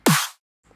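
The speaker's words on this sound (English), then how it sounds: "So the first snare sounds like this." A single snare drum sample for a dubstep beat cracks once, bright and noisy with a pitched body, decaying over about a quarter second, followed by a faint tail.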